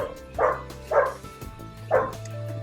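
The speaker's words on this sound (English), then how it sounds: "Sorry about the dog barking in the background." A dog barks three times at a moderate distance, short separate woofs spaced about half a second to a second apart, with no talking.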